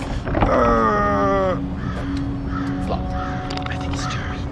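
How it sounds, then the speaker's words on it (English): Crows caw loudly nearby in a haunted prison hotel, a burst of harsh calls early on, then fainter caws further off while people talk. "Did you hear the crows calling?"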